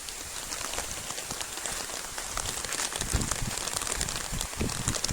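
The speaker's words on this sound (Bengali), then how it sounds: "দেখেন কেমনে বৃষ্টি আসা শুরু করছে" Rain starting to fall steadily on surfaces at a hill market, a dense patter of drops that grows slightly heavier partway through, with no voices.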